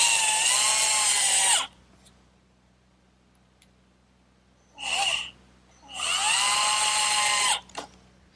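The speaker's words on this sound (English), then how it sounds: "Now for screws, I'm going to use these hot-dipped galvanized screws." A power drill drives hot-dipped galvanized coarse-thread Phillips screws into softwood for an Adirondack chair, with loud high whining bursts: one long run, a short burst, then another long run, separated by quiet gaps.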